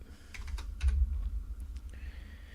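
Fingers tap out quick, uneven bursts of keystrokes on a computer keyboard, close and crisp, with a brief pause before a final few clicks.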